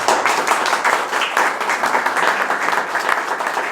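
An audience at an electoral-system panel discussion applauds, with steady, dense clapping throughout, moderately loud and fairly close.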